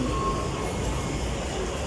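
Steady low rumble of a train running along the rails, a continuous even roar with no clear breaks, loud and close.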